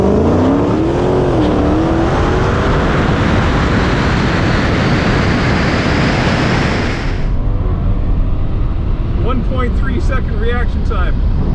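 Drag race cars, including Tesla, Dodge Demon, M3 Competition and Grand National, scream off the line in a loud, sustained acceleration roar that rises in pitch before cutting off, leaving a lower rumble with a voice talking over it.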